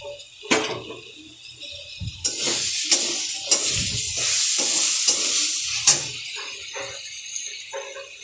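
Potatoes go into hot spiced oil for a banana-flower mocha dish, and a loud, steady sizzle follows as a spoon repeatedly scrapes and stirs them around the pan, close up.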